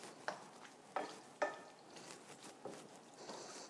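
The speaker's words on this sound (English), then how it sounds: "I'm going to give it a quick stir." Ground meat in a cold tomato-style sauce is stirred in a pan over low heat, a few sharp scraping clacks of the utensil against the pan over a faint steady sizzle, close and fairly quiet.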